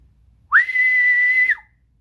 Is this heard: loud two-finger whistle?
yes